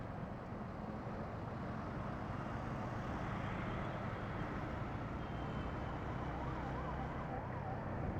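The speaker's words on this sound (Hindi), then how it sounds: "एम्बुलेंस आ रही है" An ambulance siren wails faintly in the distance over steady, loud road and Yamaha MT-15 motorcycle engine rumble during a night ride in Ghaziabad.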